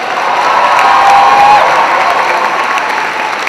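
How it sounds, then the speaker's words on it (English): A school ceremony crowd celebrating a Unified Champion School banner applauds students from nine schools, with steady massed clapping mixed with scattered cheers and shouts throughout. "Let's give them a round of applause"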